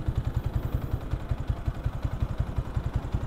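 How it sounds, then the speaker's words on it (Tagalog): A motorcycle engine running on Nanomoly oil idles up close with a fast, even thumping pulse and light mechanical clatter, steady and unaccompanied by talk. "Pinapapadinig ko sa inyo ang tunog ng makina natin."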